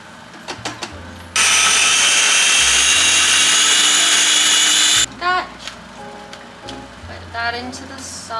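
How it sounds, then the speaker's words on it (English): A kitchen blender whirs loudly for about four seconds as it blends onions for a pasta sauce, starting and stopping abruptly, with a person talking before and after. "now we're gonna take our onions and just blend them"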